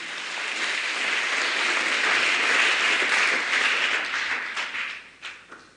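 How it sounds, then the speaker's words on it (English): Audience members at a scholarship send-off ceremony clap together in a full, even round of applause that swells, holds, then breaks into scattered last claps as it dies away. "Can you clap yourself, please?"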